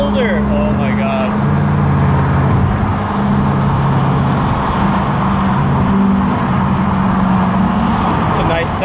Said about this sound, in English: It's a nice sounding Corvette.